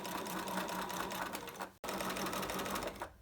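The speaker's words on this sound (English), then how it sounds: "I'm just coming to that point and then slightly over and sewing as near as you can to the" A sewing machine top stitches along the edge of a dress, a fast steady mechanical chatter that stops for an instant and then resumes, close and alone.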